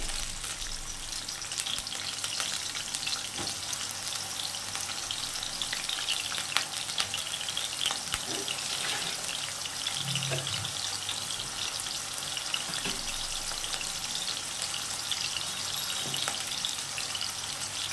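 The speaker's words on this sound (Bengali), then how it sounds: "আলুগুলো ভেজে নেব।" Large diced potato chunks fry in oil with a continuous close sizzle and an occasional faint clink. No one speaks.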